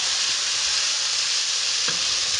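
Rice sizzles loudly and steadily in a hot pan while being fried through, a bright continuous crackle with a brief scrape of stirring near the end.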